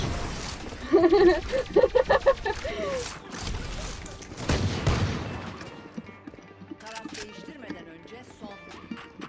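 Rapid bursts of gunfire in the shooting game Valorant, a quick run of sharp shots early, then scattered fainter shots and game sounds, with players talking throughout.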